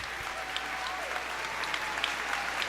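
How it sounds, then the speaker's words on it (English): Audience applause for the officials at a boys varsity high school swim meet, a steady wash of many hands clapping that holds for the whole stretch at moderate loudness, without any other sound standing out. "Please give Pete, Judy, Aaron, Trung, and John a round of applause"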